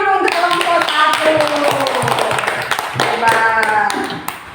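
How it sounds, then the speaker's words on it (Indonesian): Classroom clapping for a student group, with children's voices and chatter mixed in over the hand claps throughout. "tepuk tangan dulu untuk kelompok 1"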